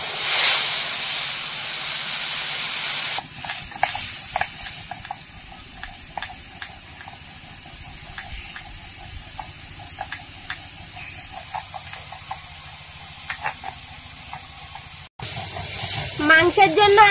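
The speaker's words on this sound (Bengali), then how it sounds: "এবার একটু জল দিয়ে আর মশলাটা কষিয়ে নেব।" A spice paste of Kashmiri chili powder and water fries and sizzles in a pan while being cooked down for a village chicken curry with potatoes, giving a steady hiss with small pops and scraping stirs.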